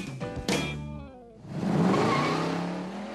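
Big-block Chevrolet 427 ZL1 V8 of about 500 horsepower in a Camaro roaring close by, a sharp rev that dies away and then builds into a sustained engine roar.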